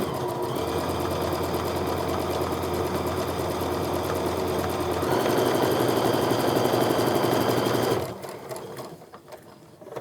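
A sewing machine stitches a quilt seam over a setting triangle, running at a steady whir that grows a little louder midway, then stops abruptly, leaving quiet room noise.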